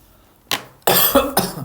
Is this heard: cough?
yes